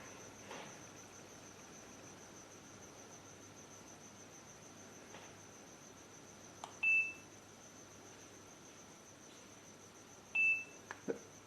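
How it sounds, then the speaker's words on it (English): A G&G security camera gives two short electronic beeps signalling it is ready to connect, one near the middle and one near the end, each brief and clear over a faint steady hiss. "There you can hear the beeping sound. That indicates that the camera is now ready to be connected."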